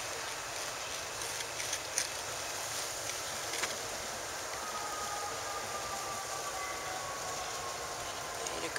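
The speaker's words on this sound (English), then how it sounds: "You can hear the M train is pulling out of Metropolitan." An M subway train pulls out of Metropolitan station, heard from nearby park playing fields as a steady, distant rumble with a faint high whine rising from the rails midway through. No voices.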